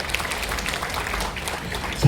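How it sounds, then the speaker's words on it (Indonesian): An audience at a convention event in Yogyakarta applauds, a sustained crackle of clapping across the room with a voice speaking alongside. "Tepuk tangan dong buat kita semua."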